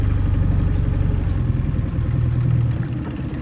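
A fishing boat's outboard engine idles steadily on a winter lake, a continuous low throbbing drone that stays close and even throughout with no talking.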